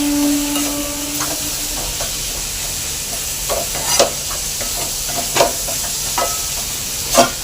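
Tomatoes and two chillies go into a home-kitchen pan of hot spices, raising a steady sizzling hiss with a few sharp pops and spatters.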